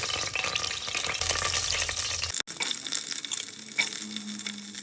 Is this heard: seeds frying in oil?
yes